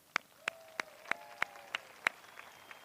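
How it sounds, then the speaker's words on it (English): At a high school graduation ceremony, sharp separate claps ring out in a slow, even rhythm, about seven in a row, close and distinct over a quiet hall, with a faint tone lingering behind them. "give yourselves a round of applause."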